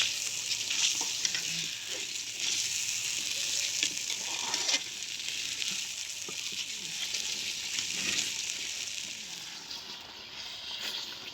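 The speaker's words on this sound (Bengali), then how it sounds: "আমাদের মশলা কষানো চলছে" Meat masala sautéing in a pan for a country-style meat curry at a birthday picnic, a steady dense sizzle with scraping stir strokes at intervals, close and continuous with no talk.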